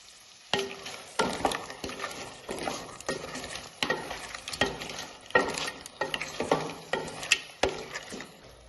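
Kerala-style crab curry stirred in a pan, a spoon scraping and knocking in repeated strokes over a soft sizzle, close and fairly quiet.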